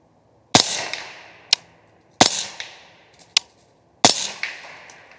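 Three suppressed gunshots from subsonic .300 Blackout 220 grain ammunition, each a sharp, loud crack trailed by a short fading tail and a smaller click a second later, spaced about two seconds apart outdoors.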